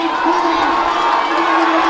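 A Penn Relays stadium crowd cheers loudly and continuously for a steeplechase runner on the final straightaway, with a race commentator speaking over it.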